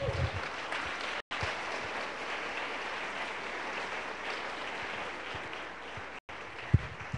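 A church congregation applauds the Lord Jesus in steady, dense clapping that fills the hall throughout, briefly cutting out twice.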